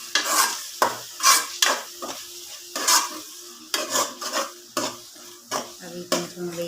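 Mutton pieces sizzle in a pot as they are stirred into a gravy for a Hyderabad-style curry, with repeated scraping strokes of a utensil against the vessel and a steady frying hiss throughout, no talking.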